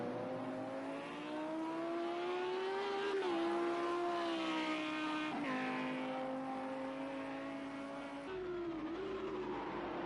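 A race car on a hot lap at Sonoma Raceway holds a steady, droning engine note that rises and dips through gear changes and corners, moderately distant and continuous, with no talk.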